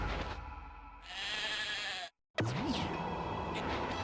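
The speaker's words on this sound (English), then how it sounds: "Fight sheep. We'll fight sheep." Sheep bleating in the video game Okami, several close, loud, wavering bleats across a few seconds that break off briefly into silence, then return over game background sound.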